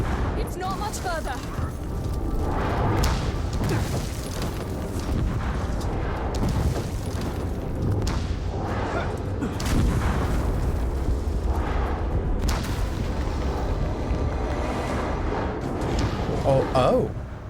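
Dense, continuous rumbling booms and blasts from a siege battle in the video game Shadow of War fill the whole stretch, loud and relentless, with game voices talking over them.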